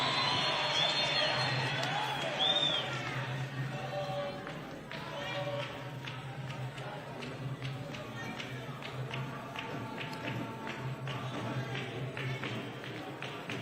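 Crowd claps and cheers at a university honorary doctorate ceremony. The applause is loud and dense at first with a brief whoop, then thins into scattered, steady clapping and murmur.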